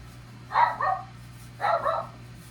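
A household dog, upset while someone sweeps downstairs, gives two short double barks about a second apart, mid-distance and fairly clear over a low background hum.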